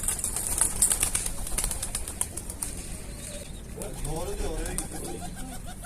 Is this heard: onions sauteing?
no